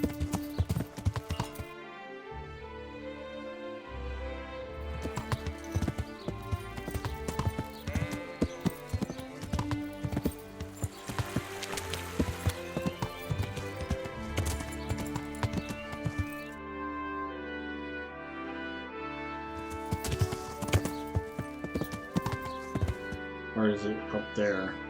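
Horse hooves clip-clop in a steady walking rhythm beneath busy background music and game sounds, with a voice talking at times.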